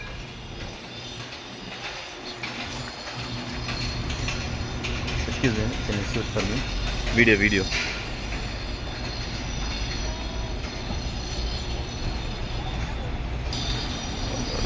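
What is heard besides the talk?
Dakar local train departing from station platform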